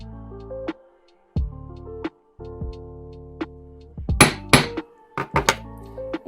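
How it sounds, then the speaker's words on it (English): Metallic hammer taps ring out on jewelry wire, first a few spaced single strikes, then a quicker cluster of sharper blows. "So you can go ahead and give it some force with your hammer."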